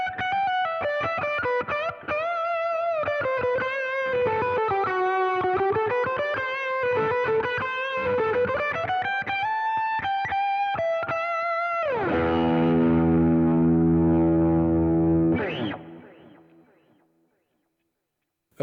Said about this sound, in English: a nice saturated overdrive. And if we get a bit of delay and reverb going as well